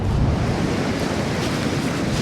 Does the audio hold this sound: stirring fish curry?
no